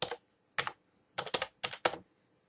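Password keys tapped on a computer keyboard during a sign-in, heard as short bursts of close, crisp clicks with brief pauses between groups, no voices.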